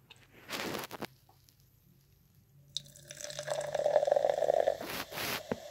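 Rip It energy drink poured from a can into a glass set on a plate, a short splash, a pause, then a longer gurgling pour that fades with a few drips.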